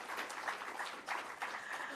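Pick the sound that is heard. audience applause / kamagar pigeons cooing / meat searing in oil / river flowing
audience applause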